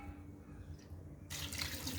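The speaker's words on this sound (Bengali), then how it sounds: "এই পানিটা আমি অ্যাড করে দেব।" Water is poured from a container into a cooker pot. A quiet stretch gives way to a sudden, steady splashing pour in the second half, close and fairly soft.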